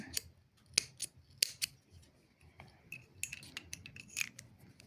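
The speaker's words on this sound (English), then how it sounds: "then I'll cut off my yarn here, my orange yarn" Scissors snip through orange yarn during a crochet bucket hat project, a few sharp close cuts spaced irregularly over a quiet background.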